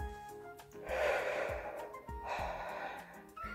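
A nervous person takes deep breaths, two long, loud, close breaths with a pause between them and no talking.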